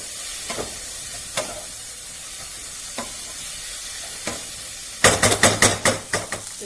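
Spicy chicken bhuna masala spices fry in a pan, with a few sparse clicks and stirs, then a sharp burst of crackling sizzle near the end, with no voices.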